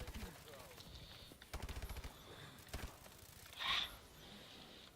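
KF5 submachine gun from Call of Duty: Advanced Warfare firing short rapid bursts, quiet and somewhat distant-sounding, separated by pauses, with game sounds and a brief louder whoosh.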